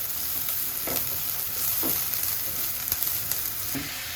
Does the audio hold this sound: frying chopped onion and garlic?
yes